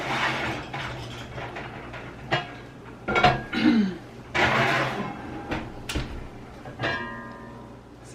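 A heavy cast iron Dutch oven, preheated to 450 degrees Fahrenheit, is taken out of a home oven, with a series of metallic clanks, bumps and an oven door sliding, close and moderately loud, with faint talk in between.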